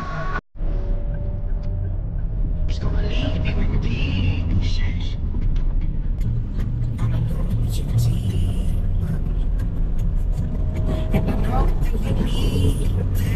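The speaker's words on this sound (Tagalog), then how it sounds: "Super traffic." Heavy road traffic rumbles steadily, with the low drone of cars and larger vehicles close by throughout, and a voice speaks briefly over it.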